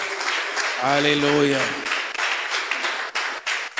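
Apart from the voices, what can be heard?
congregation applauding in church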